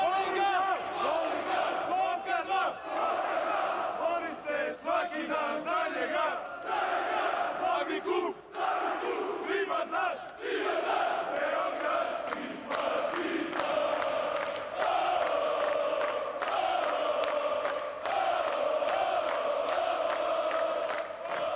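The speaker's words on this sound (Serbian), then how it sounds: "svaka čast našim momcima i našim navijačima koji su još ovdje da pjevaju i daju veliku podršku nama" Sports fans in an indoor hall sing and chant together after a hard-fought match, a loud, sustained crowd chorus that fills the space for the whole stretch, with rising shouts and no pause.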